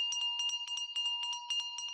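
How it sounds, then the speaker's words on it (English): A hand bell rung on stage during a theatre performance of Molière's The Imaginary Invalid: a steady run of bright, ringing strikes, about four per second, clear and fairly close, with no talk. "They don't hear my bell."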